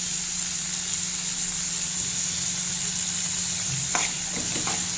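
Salted onions sauté in a pan for guava chutney, a steady close sizzle with a faint low hum beneath and a couple of light stirring clinks near the end.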